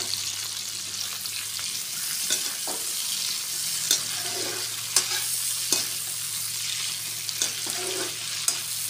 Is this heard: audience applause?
no